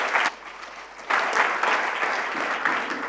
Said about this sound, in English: they really deserve a big applause.